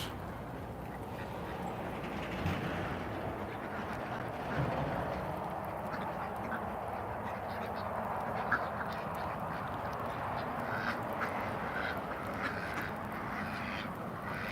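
Domestic ducks quacking steadily while eating their feed outdoors in very cold weather, a busy, continuous chatter of overlapping calls from a close flock.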